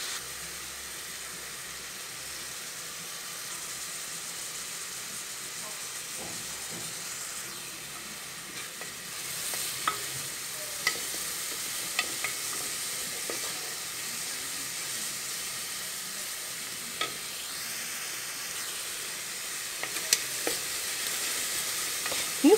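Onion fries with salt, cumin and pepper for Moroccan rfissa, a low continuous sizzle with occasional scattered scrapes and clicks from stirring, growing slightly busier in the second half.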